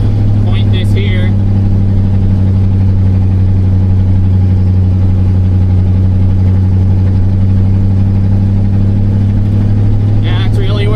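A 1986 square body truck engine hums steadily while driving at moderate speed, a loud, constant low drone with a clear mid-range tone that holds without a downshift; brief faint clicks sound near the start and end.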